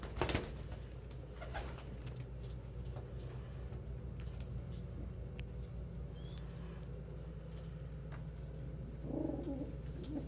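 Pigeons in a loft coo faintly amid a steady low background hum, soft murmuring calls spread across the stretch with a few brief clicks and rustles nearby.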